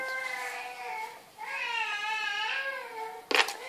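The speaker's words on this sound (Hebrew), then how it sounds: "סליחה על הבכי." An infant cries in drawn-out, wavering wails that break off briefly and then rise again, fairly close and clear, with a short burst of noise near the end.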